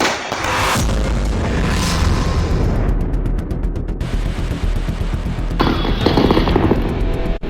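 Firecrackers burst from a moving car on a road in Lucknow, Uttar Pradesh: loud, dense crackling explosions and rapid pops in a rolling barrage, with a stretch of fast, evenly spaced bangs in the middle.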